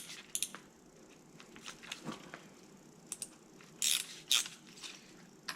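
A torque wrench tightening a spark plug into the aluminum cylinder head of a boat motor, with faint, sparse ratchet clicks and a few sharper, louder clicks near the end, in a quiet setting.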